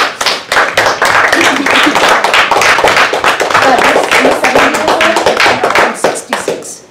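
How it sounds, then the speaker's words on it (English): Small group applauding during a hydroelectric plant tour, a dense patter of hand claps that stays loud and steady for several seconds before thinning out at the end, with no talk over it. "let's just give Bev a round of applause"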